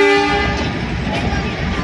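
The Matheran toy train's horn gives a short, loud, tonal toot at the very start and then fades into rumbling train and crowd noise.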